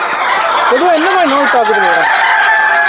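Sonali chickens on a chicken farm: a rooster crows loudly and close by, with a rising and wavering call, over steady clucking from many other birds.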